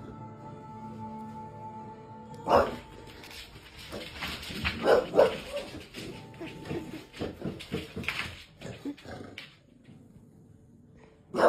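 A dog barks and whimpers in a series of yips and short barks, close and fairly loud, with bursts clustered in the middle and a quieter stretch at the end.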